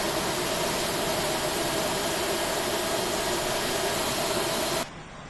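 Aerosoft A320 airliner engines running in a flight simulator game, heard as a loud, steady broadband roar with a faint hum beneath, holding constant for about five seconds before cutting off abruptly to near silence.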